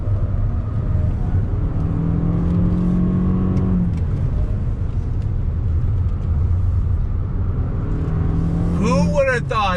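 A 2021 Toyota RAV4 Prime plug-in hybrid driven hard through corners, its engine droning and climbing in pitch under heavy steady road rumble, with a driver talking from the cabin near the end.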